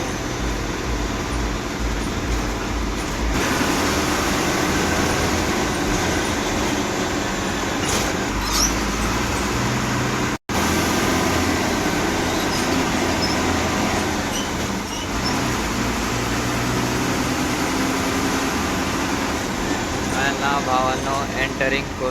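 An MSRTC bus heads toward Kurla bus stand with a continuous engine drone and interior rumble, and voices are heard faintly over the hum.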